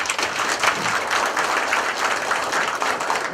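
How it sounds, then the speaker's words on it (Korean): Audience at a union meeting marking the merger of two public-sector labour federations claps steadily, a dense, moderately loud wash of applause with no voices over it. "큰 박수 한번 쳐주십시오"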